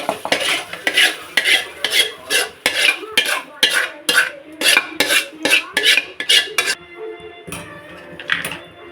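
Metal utensils clink and scrape rhythmically as fried food is shifted from a frying pan into a pot for sambar, a steady run of close clattering strokes, then a quieter pause with a few last scrapes.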